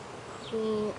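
A single honeybee buzz rises close by for a moment at a hive, a steady droning hum over faint background noise.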